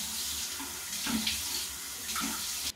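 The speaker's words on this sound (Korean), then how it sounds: "세수하고 손 씻고 발 씻고 양치하고 요 정도만 하겠습니다" Tap water runs steadily into a sink as someone washes their face and hands, a close, continuous rushing splash with small shifts in flow and no talking.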